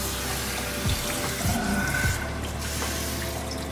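Cold water runs steadily from a tap during a hair wash, a continuous loud splashing stream with a few brief gurgling changes as the flow is interrupted.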